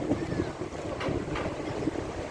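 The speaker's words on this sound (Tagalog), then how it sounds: "Kasi nga syempre tabing dagat, mahangin ganon." Wind gusting at the seaside on the Corniche in summer, a steady blustery rush buffeting the microphone with a couple of stronger swells, a faint voice briefly underneath.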